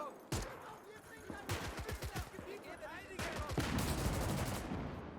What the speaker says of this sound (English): Oh, big explosion.